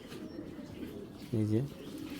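A racing pigeon of Belgian bloodline gives a single short, close coo partway through, over a quiet room murmur.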